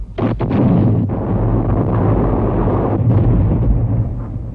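A continuous heavy artillery barrage: dense, loud rumbling with overlapping booms from many guns firing at once, no talk.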